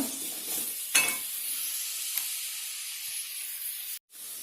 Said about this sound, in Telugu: దీంట్లోకి కరివేపాకు కూడా వేస్తున్నాను కొంచెం చేసుకోండి ఇది బాగా వేగాలండి ఉల్లిపాయలు రంగు మారాలి